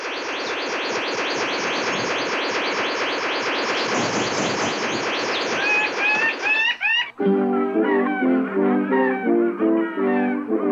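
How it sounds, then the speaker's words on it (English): A male blue bird of paradise in courtship display: dense, rapid mechanical-sounding chatter of calls fills the air loudly, then shifts abruptly to clearer repeated tonal notes with harmonics, no talking. "the blue bird of paradise, a male in full courtship display"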